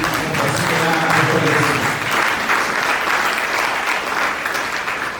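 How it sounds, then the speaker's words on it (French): A church congregation applauding, a dense, loud, continuous wash of many hands clapping together, with faint voices mixed in at the start. "Acclamons le Seigneur Jésus."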